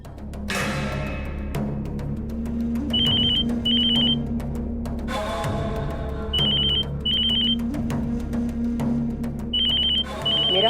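A phone rings in repeated paired electronic trills over background music, loud and close, with no one speaking.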